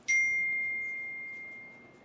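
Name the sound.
ding notification sound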